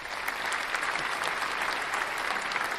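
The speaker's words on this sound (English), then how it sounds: "Can you hear my applause?" A recorded applause sound effect played during a live stream, steady dense clapping and cheering from a crowd, even and continuous for a few seconds with no pauses.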